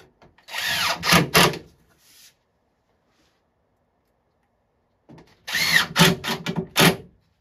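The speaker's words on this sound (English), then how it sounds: "Now this one I'm going to put 8 screws into it because it's thin and I don't want it to warp." A power drill drives screws into a Neo Geo arcade cabinet in two close whirring bursts, each with stuttering pulses, separated by a few seconds of silence.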